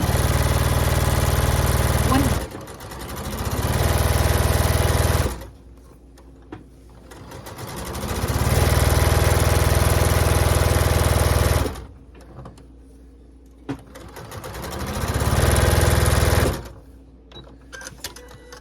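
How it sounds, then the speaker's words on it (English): A sewing machine stitches fabric for a hair scrunchie in three long steady runs of motor whir, each a few seconds, with short quiet pauses between them and close, loud, continuous stitching. "you're just going to sew all the way down"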